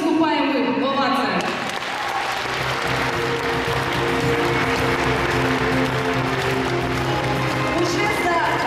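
Dense, sustained audience applause and ovation for dancers at a dance awards event, loud and continuous throughout with crowd noise and some talking mixed in underneath.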